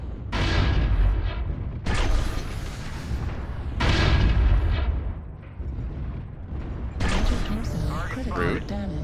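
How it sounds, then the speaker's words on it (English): Gauss rifles in MechWarrior Online fire as four heavy, booming metallic blasts spaced a couple of seconds apart, each loud and close with a ringing decay. "Ow, Gauss rifles."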